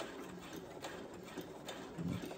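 A Brother sewing machine running steadily as it back stitches fabric, a low, even motor hum with a continuous mechanical whir throughout and no break.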